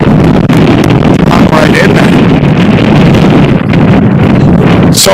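Gusting wind buffets the microphone at an outdoor baseball game in Westchester, a steady loud rumble that swells and eases under a commentator's voice.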